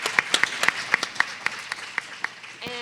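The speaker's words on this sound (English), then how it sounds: "I just want a huge round of applause for your honesty" Applause from a seminar audience at a summit salon session: scattered, fairly sparse claps from a small group that thin out over a few seconds, with a voice starting up right at the end.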